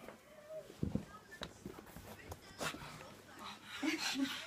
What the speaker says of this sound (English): The dog's fighting.